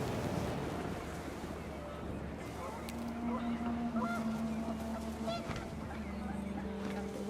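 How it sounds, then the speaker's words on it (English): Panicked geese honk in the video game What Remains of Edith Finch, faint and scattered over steady outdoor wind and water ambience, with a few clearer calls midway. "The wind picked up, and panicked geese appeared and quickly went."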